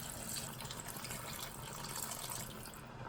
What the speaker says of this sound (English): Fill the pot with water to cover all ingredients.